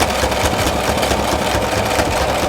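A sewing machine stitching pieces of fabric together runs steadily and fast, a close continuous mechanical whir with a rapid regular needle rhythm throughout and no talking.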